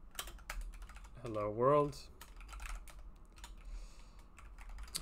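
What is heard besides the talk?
typing on a computer keyboard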